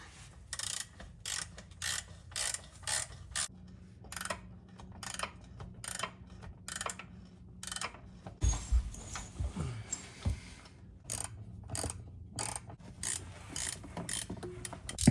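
A hand ratchet snugs up E14 bolts on a BMW E36 transmission during a manual swap, giving repeated short bursts of close, crisp clicking with brief pauses between strokes and a duller knock partway through.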